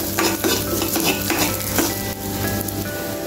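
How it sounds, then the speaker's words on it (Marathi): Rice being roasted in ghee over a low flame gives a continuous sizzle, with the scrape and clink of a spoon stirring against the pot, close and fairly loud, with no voices. "हे तांदूळ छान असे खमंग भाजून घ्यायचे आहेत आपल्याला बारीक गॅसवरती।"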